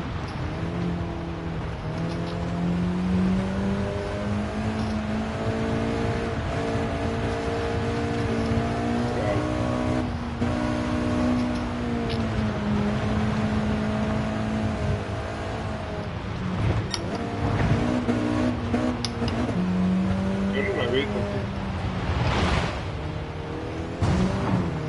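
A car engine in the video game Gran Turismo Sport drones and revs steadily, its pitch rising and dipping as it drives on dirt, with gravelly road noise underneath and no talk.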